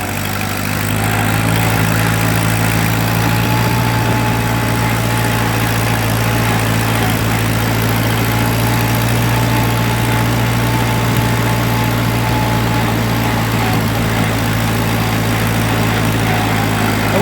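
A Ford 9N/2N/8N tractor engine runs steadily in second gear in overdrive, a loud, close, continuous low drone with a constant hum that holds without breaks.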